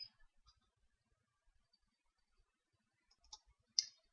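A computer mouse clicks a few times in near-silence, with single sharp close taps at the start and a louder pair near the end.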